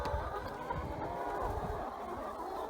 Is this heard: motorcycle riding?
no